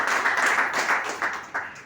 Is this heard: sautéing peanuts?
no